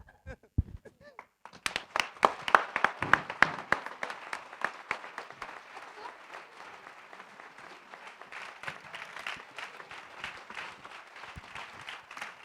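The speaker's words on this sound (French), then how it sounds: "Merci, merci beaucoup d'applaudir ces jeunes gens." A theatre audience applauds young performers on stage, beginning with a few scattered claps that swell into full, moderately loud applause and then settle into steady clapping, with voices faintly under it.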